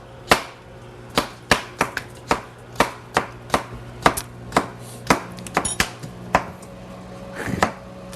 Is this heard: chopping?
yes